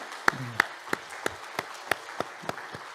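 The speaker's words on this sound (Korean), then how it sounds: "우리 함께 두 분 또한 자녀도 같이 왔는데 박수 부탁합니다" Church congregation during a Sunday service clapping to welcome visitors, heard as a run of about nine crisp, evenly spaced claps with a faint murmur early on.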